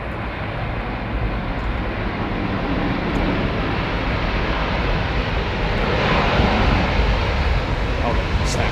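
Aircraft landing at Heathrow Airport, a loud, steady, close engine roar filling the whole stretch and swelling slightly toward the end, with a voice talking faintly underneath.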